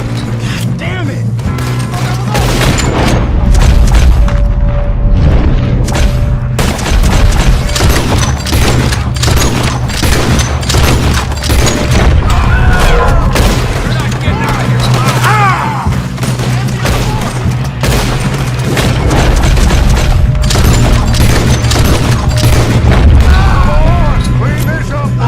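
Gunfire in a Red Dead Redemption 2 shootout: repeated loud, close shots and booming blasts come in uneven clusters, with thuds and clatter in between and voices calling out over the fighting.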